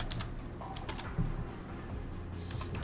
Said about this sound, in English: Typing in the dark.